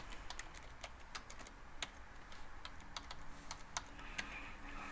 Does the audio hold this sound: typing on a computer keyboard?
yes